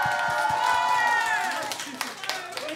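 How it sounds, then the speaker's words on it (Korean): An audience at a university club performance claps while voices whoop and cheer over the top, scattered sharp claps mixing with rising and falling shouts that thin out toward the end. "박수 한번 주세요"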